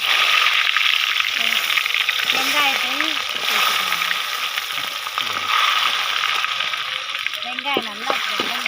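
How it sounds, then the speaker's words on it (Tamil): Fennel seeds, green chillies and curry leaves fry in hot oil for an egg curry, a steady close sizzle and crackle running throughout beneath a speaking voice and a voice. "சோம்பை பொரிய விட்டு மூணு பச்சை மிளகாய்"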